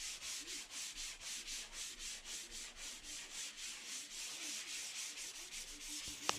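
Steady rhythmic scraping of sanding across a drywall patch, repeated back-and-forth strokes at an even pace, close up, with no talking.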